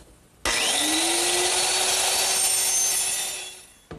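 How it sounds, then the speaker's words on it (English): A small lightweight circular saw trims the wooden ends of a settle's seat and cross members, spinning up abruptly into one loud, close, sustained high whine with cutting noise that fades as it winds down, then a brief clunk. "to trim the ends of both the seat and all the cross members, I'm just going to use my little lightweight circular saw"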